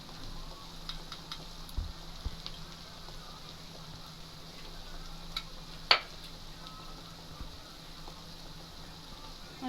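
Spices for chicken kosha, cumin, chili powder and Kashmiri chili, sizzling softly in hot oil in a pan, a faint steady fry with occasional scraping stirs.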